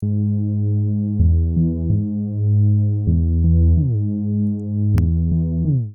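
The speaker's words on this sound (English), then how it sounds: "So it bends a little bit and slides." A sustained house synth bass line made in Serum, with rich harmonics, its notes gliding smoothly into one another via portamento rather than jumping, with a brief click near the end.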